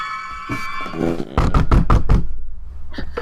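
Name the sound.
research assistant knocking on a lab door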